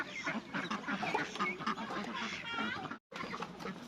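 Close white ducks quack in a busy overlapping chorus, with voices mixed in, before a brief cut near the end.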